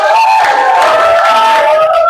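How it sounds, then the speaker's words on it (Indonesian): A classroom of students erupts in loud, close cheering and shouting, with sustained voiced yells dominating over a blur of clapping. "Ya, oke, tepuk tangan dulu, Ustaz."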